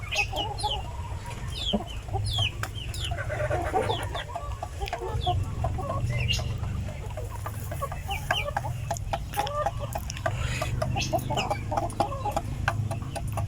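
Free-range Mix Heritage chickens clucking on the range, scattered soft clucks and chirps from several birds at moderate distance over a low steady background rumble.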